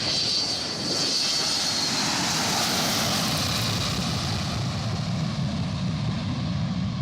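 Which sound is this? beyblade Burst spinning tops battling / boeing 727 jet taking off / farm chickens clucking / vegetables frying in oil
boeing 727 jet taking off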